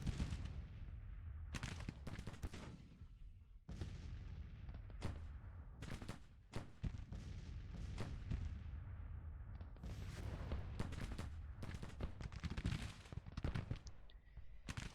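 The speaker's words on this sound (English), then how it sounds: "the cavalry can fire over the top of you" Cavalry gunfire in the Civil War strategy game Grand Tactician rattles out in dense, irregular bursts of sharp musket shots, some close and loud, others overlapping into ragged volleys across the whole stretch, with no talk.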